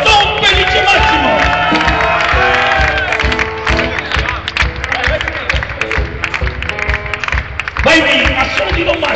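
A crowd cheers, whoops and claps for Don Felice Massimo at a lively gathering in Arluno, loud and dense, with music and voices mixed into the sustained noise.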